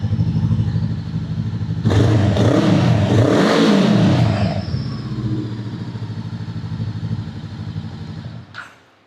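A VOGE CU 525 cruiser motorcycle's engine idles steadily, then is revved hard in a sustained, loud burst for a couple of seconds before settling back to a close, rumbling idle.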